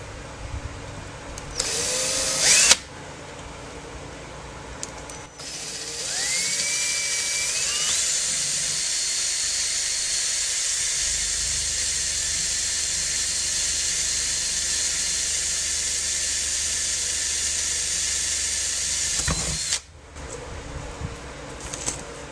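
Power drill bores holes in plexiglass for a homemade dog door, whining at high pitch in long steady bursts with brief pauses between holes, close and loud.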